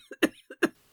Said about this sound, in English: her laugh ending in a cough